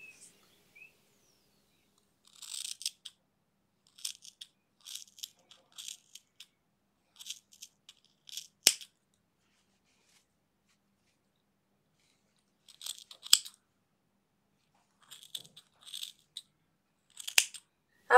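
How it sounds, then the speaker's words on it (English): Scissors snip through yarn loops while a pompom is trimmed, crisp close cuts in short clusters separated by quiet pauses, with one sharper clack partway through. "Now we can cut the yarns along the top."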